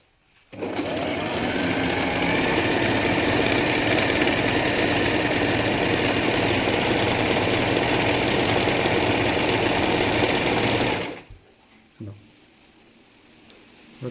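A Singer Simple 3223 sewing machine stitches a scallop pattern in one continuous, fast, close mechanical whir for about ten seconds, then stops abruptly, leaving a couple of faint clicks.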